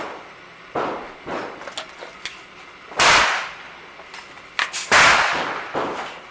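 Handgun shots at an outdoor range fire cast lead wadcutter bullets loaded with 6.3 grams of 231 powder: three loud, sharp reports a couple of seconds apart, with fainter clicks and handling noises in between.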